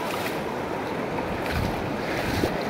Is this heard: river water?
yes